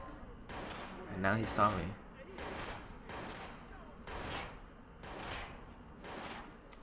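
Several sharp gunshots from the video game Watch Dogs, a close burst followed by repeated evenly spaced shots, mixed with someone talking over the gameplay.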